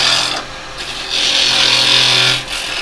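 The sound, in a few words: woodturning gouge cutting wood on a lathe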